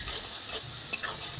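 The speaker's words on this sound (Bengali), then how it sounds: "এবার সব উপকরণ দিয়ে মশলাটা হালকা করে ভেজে নেব।" Spice masala of ground spices, chili powder and turmeric frying lightly in a pan for a vegetarian banana flower dish, a steady close sizzle with faint stirring scrapes and no voices.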